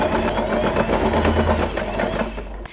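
A sewing machine stitches a fabric scrunchie in a steady, close, continuous mechanical whir, with fast needle chatter running for nearly three seconds before stopping abruptly.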